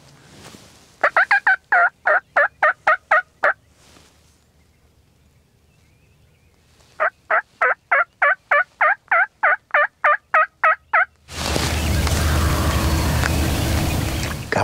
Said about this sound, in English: Gobble, gobble, gobble.